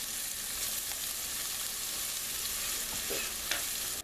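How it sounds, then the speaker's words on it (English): Onions frying in a pan give a steady, close hiss of sizzling oil with a couple of faint stirring scrapes near the end, no talking. "While I've got those onions simmering away"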